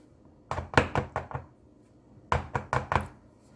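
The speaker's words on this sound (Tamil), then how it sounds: "இந்த மாதிரி எல்லா சைட்ஸ்லேயுமே ஷேக் பண்ணி விடலாம்." A chocolate cake tin full of batter is tapped on a counter to settle it, two close bursts of about four hollow knocks each, separated by a short pause.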